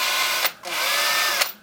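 A 2.8mm drill bit bores through the plastic mounting holes of a Piezo20 module kit, a steady close, loud whine broken by two brief pauses with sharp bursts as the bit breaks through.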